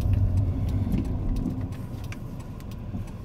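Steady engine and road rumble inside a car driving slowly through the former Soviet military town of Jüterbog in Germany, a continuous low drone heard alone at moderate level with faint rattles.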